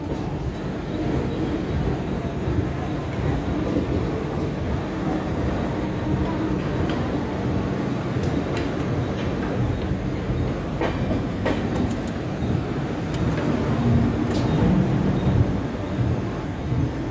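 Superfast express train 22902 from Udaipur to Bandra Terminus rolls slowly through a station without stopping, heard as a steady, loud onboard rumble with occasional faint clicks from the rails, continuous throughout and with no talk.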